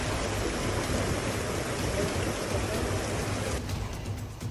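Heavy continuous rain and rushing floodwater in Rajasthan, a dense steady wash of broadband noise that stays loud throughout before easing slightly near the end.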